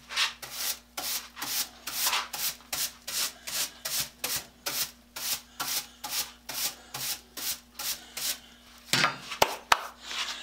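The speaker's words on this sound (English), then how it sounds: "we'll sweep off all the grit off the bench." Brush sweeping grit off a workbench after cleaning a pruning saw blade: about twenty steady, evenly spaced scratchy strokes up close, ending in a few louder scuffs and taps, with no talk.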